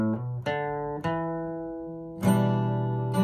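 Part of an intro riff played on acoustic guitar: a few plucked bass notes, then a strummed chord left to ring, close and clear with no voices.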